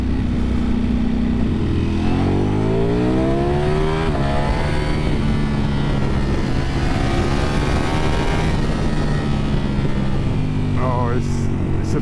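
A 2024 Ducati Panigale V4S motorcycle engine revving and pulling through rising pitch sweeps as it accelerates, loud and continuous, with wind noise throughout.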